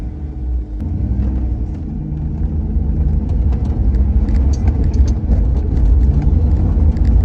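A car with a supercharged Toyota 3UZ V8 fitted with an Eaton TVS1900 supercharger drives along, its engine giving a steady low rumble that builds slightly over several seconds, heard alone without talk.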